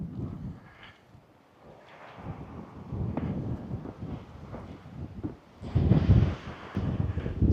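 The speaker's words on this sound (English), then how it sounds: "It's very breezy out today." Gusty wind buffets the microphone outdoors at Badlands National Park, low rumbling bursts rising and falling irregularly, growing loudest near the end.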